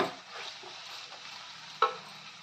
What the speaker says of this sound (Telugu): ఉల్లిగడ్డ బ్రౌన్ కలర్ వచ్చేదాకా వేగింది అల్లం ఎల్లిగడ్డ పేస్ట్ పచ్చిదనం పోయేదాకా వేయించుకోవాలి